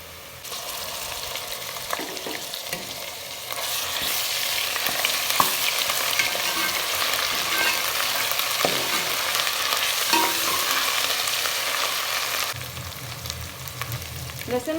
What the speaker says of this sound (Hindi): प्याज को हम लाइट ब्राउन करेंगे और इसमें लहसुन अदरक का पेस्ट ऐड करेंगे।